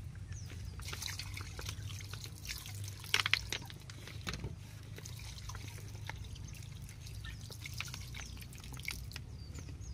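Vinegar trickles and dribbles steadily over galunggong fish being marinated, a soft continuous pour with faint drips and a low background hum, no voices.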